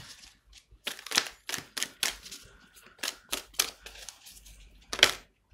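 Tarot cards are drawn and laid down one after another in a quiet room, giving a run of about a dozen crisp, sharp snaps and slaps at an irregular rhythm, close and clear with nobody talking.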